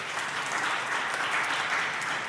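A lecture audience claps steadily in tribute at a heritage talk, a dense, even wash of applause that holds at the same level throughout without any voices over it.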